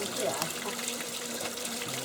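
Continuous splashing and trickling water running down stone stairs like a small waterfall on Qianshan mountain, Anshan, China, a steady close wash of liquid noise with no clear speech.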